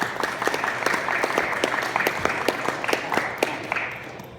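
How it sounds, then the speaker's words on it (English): Welcoming round of applause from an audience at a talk on early football at Monmouth College, steady dense clapping with sharp individual claps standing out, fading slightly toward the end. "welcoming round of applause"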